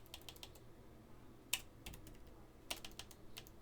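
Light typing on a computer keyboard while configuring a Cisco SD-WAN service VPN, a short run of soft, quick key taps with a couple of sharper strokes, fairly quiet and close, with no talking.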